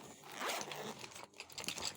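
A zipper is pulled open on a children's pencil case with a car design, giving a close, continuous rasping zip about two seconds long, quiet overall and without talk.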